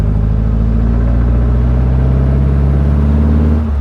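A 1968 VW Type 3 Squareback with an 1835cc air-cooled engine revs hard and close, a loud, steady throbbing drone pulling through the gears that eases off at the very end.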